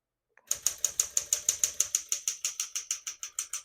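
A 1964 Smith-Corona Sterling portable typewriter types a steady run of about twenty crisp, evenly spaced key strikes, close and clear against a quiet room.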